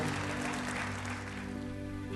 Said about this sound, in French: C'est toujours beau une dédicace, on peut encore les applaudir.